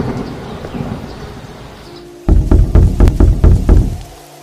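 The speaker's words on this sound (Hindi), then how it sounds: "कैसी बिजली कड़क रही है" A thunderstorm rumbles outside a house: steady rain patters softly, then heavy rolling thunder cracks in and booms in a series of loud, close pulses before fading.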